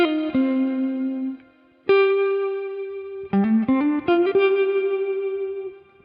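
VZ Tech Malibu plugin, modeled on the Malibu guitar pedal, adding reverb and tremolo to clean sustained tonal notes: a few held notes and a quick run of short ones, the final note pulsing and fading.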